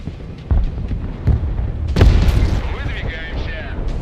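Artillery fire in an online military video game: several deep booms and blasts, one heavy impact standing out, with a rumbling battle backdrop under radio-style voices.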